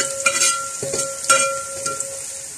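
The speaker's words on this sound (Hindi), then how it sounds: "जरा सा जीरे के साथ और मसाले के साथ इसको भूनेंगे।" Garam masala and cumin fry in a pan, a soft steady sizzle broken by a few stirring scrapes and clinks, close and fairly loud.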